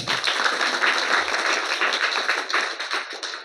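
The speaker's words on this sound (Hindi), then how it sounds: "तो एक बार इन दोनों बच्चों के लिए जोरदार ताली" An audience gives a steady, dense round of applause for two teachers, one from a primary school and one from an upper primary school, the clapping staying loud and even before easing slightly at the end.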